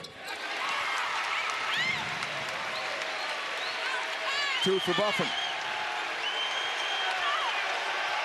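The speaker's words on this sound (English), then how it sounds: "Bartow Arena crowd making some noise here." A basketball arena crowd roars and claps steadily throughout, a dense sustained wash of cheering, with a commentator's voice and shouts and a whistle rising above it partway through.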